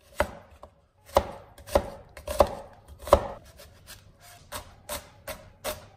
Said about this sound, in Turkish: 1 adet küçük boy soğanım var. Şimdi bunu küçük parçalar haline getiriyorum.